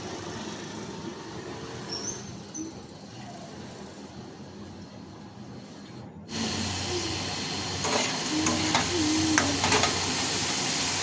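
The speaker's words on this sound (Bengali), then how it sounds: "আর এই যে দেখো আমি আলুগুলো ভেজে নিচ্ছি।" Potatoes fry in oil for a Bengali home meal with a steady hissing sizzle, close by, that grows louder and brighter partway through, and no one speaks.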